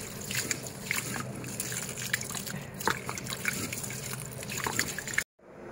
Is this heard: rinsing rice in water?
yes